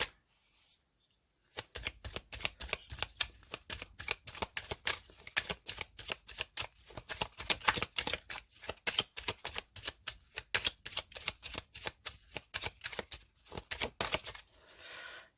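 Oracle cards shuffled by hand, a long run of rapid crisp riffling snaps up close that starts after a short quiet pause and stops near the end.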